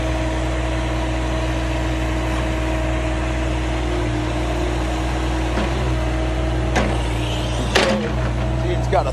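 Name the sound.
excavator using its thumb to grab an old junk trailer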